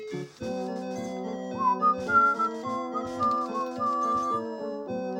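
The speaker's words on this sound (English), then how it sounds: "Sorry, had to whistle." A person whistles a few rising and falling notes over the steady, chiming music of the arcade game Ghouls 'n Ghosts. The whistling is moderately loud and sits on top of the continuous game soundtrack.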